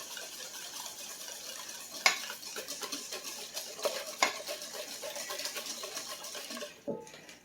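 Brown sugar being stirred into heavy cream for French toast, a continuous scraping and swishing of a utensil in a bowl with occasional light clinks against the side, close and fairly quiet.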